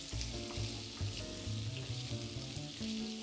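Smoked sausage sears in a pan with a little vegetable oil, giving a close, steady sizzle with soft crackles and a low, rhythmic scraping underneath. No one is talking.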